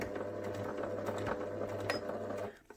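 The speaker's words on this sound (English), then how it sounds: "I'm going to put my fabric under my sewing machine foot here" A domestic sewing machine runs steadily as it stitches fabric near the end of a seam, a close mechanical whir with a rhythmic hum that stops abruptly near the end, no speech over it.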